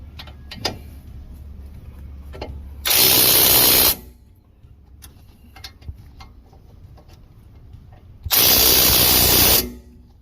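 A Milwaukee power tool snugs down a brake bolt on a 2009–2014 Ford F150 in two loud, short bursts of whirring and ratcheting, each about a second long, separated by quiet workshop noise.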